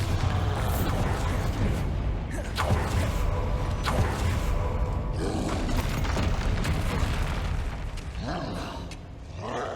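Spell blasts such as Bombarda go off in the Hogwarts Legacy video game. Several loud booms and crashes stack over a constant din of combat noise with no clear speech, and the impacts keep coming throughout.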